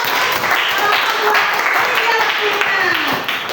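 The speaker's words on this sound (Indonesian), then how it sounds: "Berikan tepuk tangan." Schoolchildren in a science class clap for their classmates, a busy burst of hand claps under some faint talk and a few brief tonal sounds.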